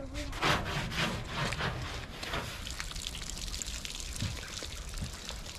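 Gloved hands scrub an old aluminum canoe with aluminum cleaner, rapid rough rubbing strokes close by at first, then softer, scattered scraping.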